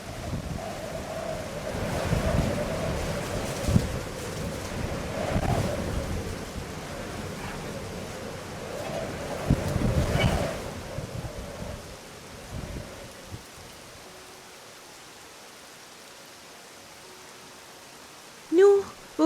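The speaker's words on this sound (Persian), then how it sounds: "شبنده روج زمین سر وارش بورسته و پیلدان طوفان بمو و سیل تمام زمین بگیفته" Heavy rainstorm with rumbling thunder and rushing flood water, a loud continuous roar with low rumbles and gusts that fades quieter toward the end.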